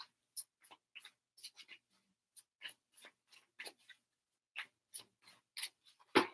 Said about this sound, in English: I'm just pulling several cards here.